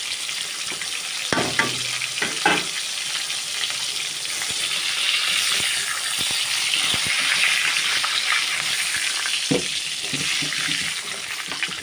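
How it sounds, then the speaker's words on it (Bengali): Pieces of pointed gourd fry in hot oil in a kitchen pan with a steady, loud sizzle throughout, broken by a few sharp clatters of stirring near the start. "উল্টে উল্টে আমি লাল করে ভেজে নিচ্ছি পটলগুলো"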